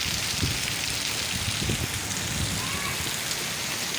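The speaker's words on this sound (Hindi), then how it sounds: "काफ़ी ज़ोरों से बारिश हो रही है।" Heavy rain pours steadily in the hill town of Murree, a dense, unbroken hiss of drops hitting surfaces, loud and close throughout with no voices.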